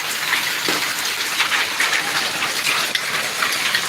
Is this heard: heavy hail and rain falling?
yes